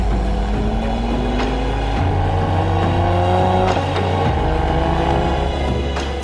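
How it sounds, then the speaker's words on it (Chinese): A Lotus sports car pulls away with a loud, steady engine drone, and its pitch climbs smoothly through a couple of gear changes that show up as clean steps in the tone. No one speaks. "一起步那种动静，速度提起来那种换挡那种声音，"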